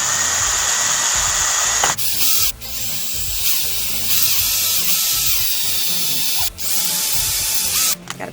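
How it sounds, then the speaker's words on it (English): Cordless power drill whirring steadily at high speed through a workpiece, drilling a series of holes for a homemade cat project, with brief pauses and restarts between holes, loud and close, no talking. "And so I'm going to use the drill for my other holes here."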